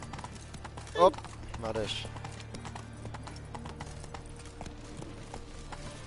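Hoofbeats of Roach, the horse in The Witcher video game, clop steadily at mid distance under game ambience, with a sharp louder burst near the start and a short voice nearby.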